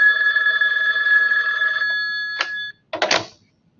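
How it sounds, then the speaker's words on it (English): A telephone rings loudly and steadily in a quiet room, its tonal ring sustained for almost two seconds, then broken off, with a couple of short handling clatters after it. "No one ever calls me directly on this phone until I'm on a video."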